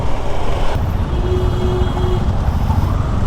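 Vehicle driving along a road near Parki Sea Beach before overtaking on the right, with a steady, loud broadband engine and road rumble and a faint tonal whine held throughout.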